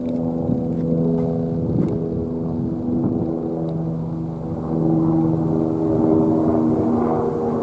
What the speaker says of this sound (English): They're approaching, helicopter approaching.